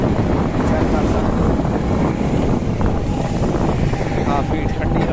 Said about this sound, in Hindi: काफ़ी ठंडी हवा चल रही पी है